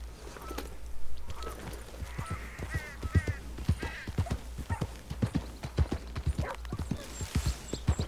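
Horse hooves clip-clop in Red Dead Redemption 2, a steady close walking rhythm of distinct hoof strikes over several seconds, with a few honking bird calls in the background.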